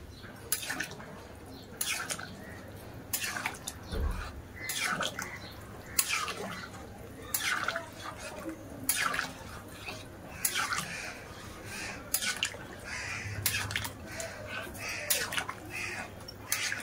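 Mutton curry with papaya simmers in a pot of extra-watery gravy, giving soft, irregular bubbling pops and drips that come close and fairly faint throughout.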